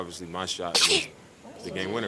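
A single quick sneeze bursts out from a person during a basketball postgame interview, landing between stretches of someone speaking close to the microphone.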